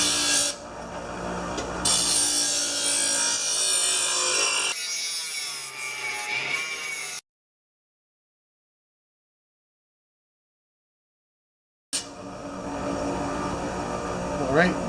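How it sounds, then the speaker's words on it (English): An older Husqvarna lawnmower blade is sharpened in bursts of harsh grinding and rasping, close and loud, cut off by a stretch of silence before the grinding resumes. "once I get sparks coming over the back of the blade from the sharpening, it's pretty sharp"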